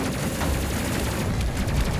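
Missiles launching and striking targets in the space combat game Space Crew, a dense, steady barrage of rumbling blasts and crackling impacts that fills the two seconds without any voice.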